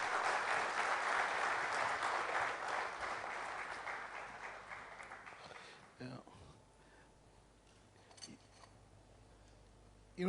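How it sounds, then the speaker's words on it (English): Sustained applause from a conference audience, dense clapping that gradually fades out, followed by quiet room noise and a few soft thumps. "Please give him a big round of applause."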